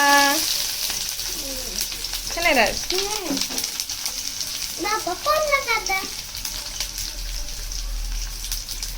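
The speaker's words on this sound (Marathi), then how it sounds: "तेल झालं गरम त्याच्यामध्ये जाणार कांदा" Steady sizzling of onion frying in hot oil in a kadhai fills the clip, with brief tonal bursts of something else riding over it midway.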